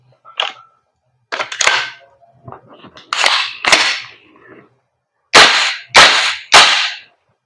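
A CO2 airsoft pistol fires sharp, loud pops one at a time, with a run of three quick final shots before the bolt locks open. The shots are close and separated by quiet gaps and small mechanical clicks.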